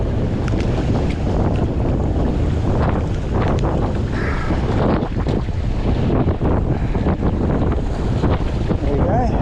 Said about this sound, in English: it also shows that it doesn't matter how windy it is here